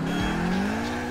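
A Blista Kompakt in GTA IV revs steadily, its engine tone gliding upward as it accelerates, loud and close, with a faint tire squeal underneath.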